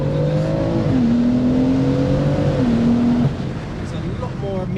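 A 700 hp single-turbo BMW M4 revs in a series of rising and falling pulls with turbo whistle, loud and close, while people talk over and around it.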